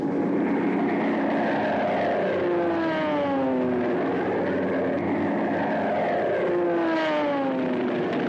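Propeller engines of a World War II B-29 Superfortress bomber drone steadily in a wartime Pacific air battle, with repeated sweeping, rising and falling pitches from aircraft passing overhead, loud and continuous throughout with no talk.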